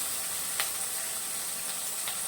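Garlic kuzhambu frying in a pan, giving a steady faint sizzle and hiss with a few brief crackling pops.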